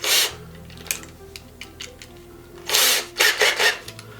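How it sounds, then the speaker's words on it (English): A Dremel stone deburrs holes in an airgun stock, making brief close grinding bursts at the start and near the end, separated by quiet handling and light scraping. "I'm going to go ahead and deburr the inside now using that piece of stone from the Dremel set."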